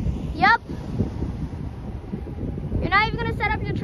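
Wind buffets the microphone in a constant low roar at a railroad crossing in Wyandotte, Michigan, with two brief bursts of voices breaking through.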